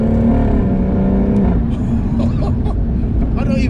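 A 600 bhp track-spec BMW M140i accelerates hard, its engine roaring loud and close from inside the car, with a gear shift partway through that changes the engine's pitch; a voice speaks over it.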